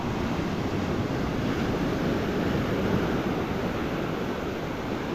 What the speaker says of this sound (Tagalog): Yun yung alon guys.